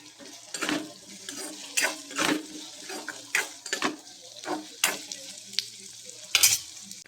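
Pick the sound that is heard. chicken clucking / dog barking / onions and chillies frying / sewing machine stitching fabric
onions and chillies frying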